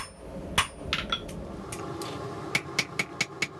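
Hammer blows on hot steel at an anvil while forging tinsnip-style shears; a few scattered ringing strikes, then a quicker run of about six regular metallic hits, fairly close with no talking.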